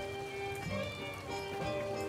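Steady rain pattering down in the Fallout: New Vegas video game, a continuous dense hiss with soft game music tones underneath.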